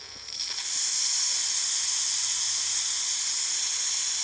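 Steam hisses loudly from a model steam engine boiler under high pressure, rising within half a second into a sustained, even, close hiss.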